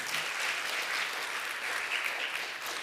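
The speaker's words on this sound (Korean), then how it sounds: "우리 박수로 축복하겠습니다" A church congregation at a Sunday worship service applauds in blessing, a soft, even wash of clapping from many people, distant and continuous for the whole stretch.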